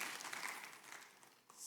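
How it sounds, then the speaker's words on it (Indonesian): A church congregation applauds together, a dense, faint wash of clapping hands that holds steadily through the short moment. "Berikan tepuk tangan yang meriah buat Allah kita"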